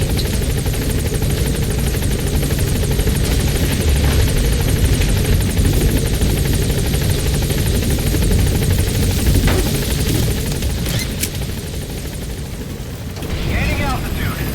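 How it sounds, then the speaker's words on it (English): Support helicopter in the video game Metal Gear Solid 5 arriving, its loud rotor thump and engine roar continuous throughout, with booms and crackles of gunfire and game voices over it. "Support helicopter has arrived."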